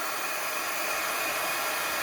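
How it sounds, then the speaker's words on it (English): Embossing heat tool blowing hot air in a steady, even whoosh, close and uninterrupted for the whole stretch. "I wish we could have a cordless embossing tool"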